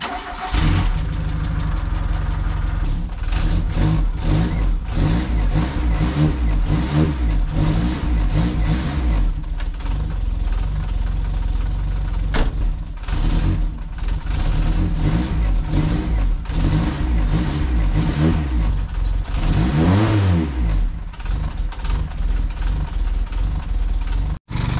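A VW Golf 2 carburetor engine revs up and down repeatedly with a rough, raspy tone from an exhaust leak, loud and close, with brief voices under the engine.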